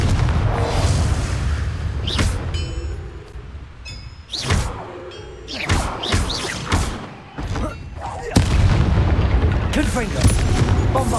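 Repeated spell blasts from combat in Hogwarts Legacy, heavy booming impacts and thuds arriving in a rapid, dense sequence over a constant rumbling game background, loud throughout.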